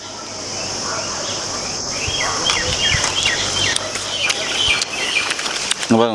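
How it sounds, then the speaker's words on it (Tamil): Birds calling among fruit trees, with scattered chirps and twittering layered over a steady insect-like hiss. The calls continue throughout at a moderate distance, with a brief louder rustle near the end. "பறவைகள்லாம் பார்த்திங்கன்னா நிறையா இருக்கு பாருங்கள் சவுண்டு கேட்குது இல்லைங்களா"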